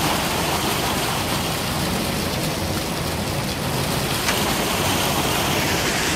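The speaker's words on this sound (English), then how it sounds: "Listen to all that rock. Rock, sand, and all that coming out now." Rock, sand and wash water pouring out of a cement mixer truck's drum, making a steady, loud splashing rush with gritty texture, constant and close without any talking.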